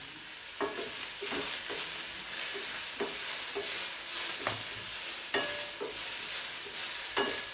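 Onion and vegetables for a sweet corn and snake gourd usili are stirred in a hot pan, with a continuous close hiss of frying and a steady rhythm of spatula scrapes and taps, without speech.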